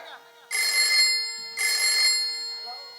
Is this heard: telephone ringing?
yes